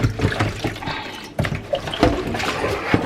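Tap water runs and splashes over a whole turkey in a kitchen sink, close, uneven gurgling and spattering as the bird is rinsed.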